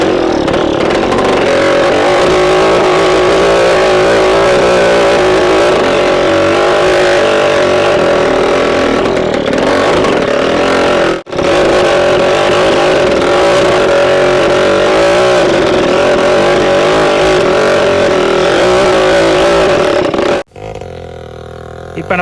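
A bike-engine cultivator runs steadily and loudly while tilling tall grass on farmland, its engine droning without a break apart from two short dropouts.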